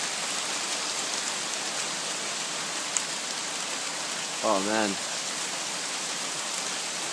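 Steady rain falling after a hail storm in Calgary, an even hiss throughout, with a man's brief exclamation midway.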